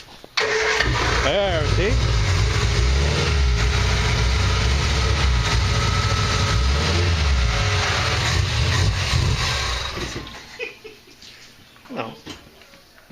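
A Triumph Spitfire engine cranks, catches and settles into a steady, loud idle, running close by for about ten seconds before cutting off; a few people talk briefly over and after it.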